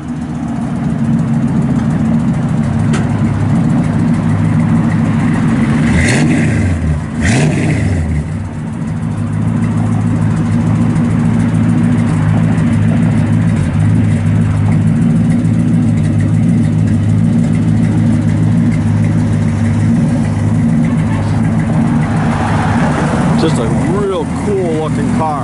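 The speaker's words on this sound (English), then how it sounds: "It's got a nice little dual exhaust on it, just not real loud or nothing" A 1967 Ford Fairlane 500 XL engine with dual exhaust idles with a steady low rumble throughout, a mellow exhaust note that briefly rises as if revved, with talking over it.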